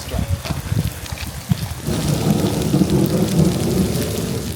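Rain with thunder outdoors in Split, Croatia: a steady, close hiss of falling rain that swells louder after a couple of seconds, with low rolling rumbles underneath.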